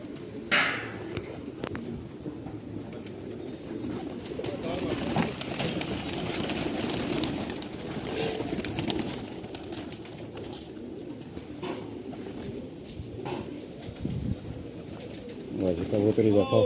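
Soft cooing from Punjabi pigeons continues beneath someone talking steadily, with occasional light knocks and rustles nearby.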